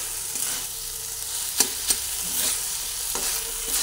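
Ginger and rice fry together in a pan over a raised gas flame for a vegetarian dish, sizzling at a low, steady level while a few sharp spatula clicks and scrapes punctuate the stirring.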